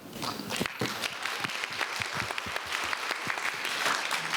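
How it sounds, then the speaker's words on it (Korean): Dense, steady applause from a festival audience welcoming young student vocalists onstage for a celebration performance at a children's event; loud and continuous, with many overlapping claps throughout. "지금부터 여러분들의 큰 박수로 모셔보겠습니다"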